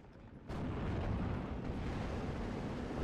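In the WWII strategy game Steel Division: Normandy 44, a Befehl Panzer IV tank trades fire with an M1 gun at range, a sudden heavy boom followed by a dense, rumbling wash of continuous battle noise.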